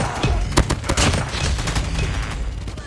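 Dense, rapid gunfire in a Call of Duty multiplayer match on the Shipment map, a continuous barrage of close, loud shots and bursts with a few sharper cracks standing out, and no talking.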